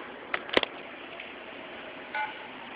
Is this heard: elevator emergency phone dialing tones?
yes